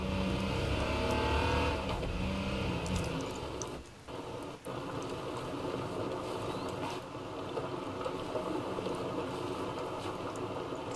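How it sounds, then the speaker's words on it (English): Engine of a car in a video game driving nearby, a steady motor rumble that is loudest at the start, dips briefly, then holds at a constant level. "I heard a car near."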